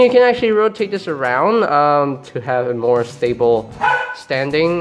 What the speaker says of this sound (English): if you heard my dog barking in the background again